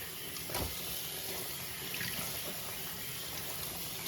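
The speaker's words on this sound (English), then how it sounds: "we're just gonna get that warm water and have it run through it" Warm tap water runs steadily through a foam playmat in a sink, a constant soft hiss and trickle with no talking.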